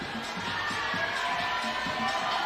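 Steady crowd noise from spectators cheering at a women's bouldering final in Curitiba, a continuous far-off wash of voices with a faint announcer speaking over it.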